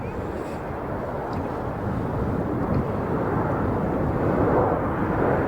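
Broadband jet roar from a FedEx jet inbound at Chicago O'Hare airport, a steady loud rumble lasting throughout, with faint voices beneath it.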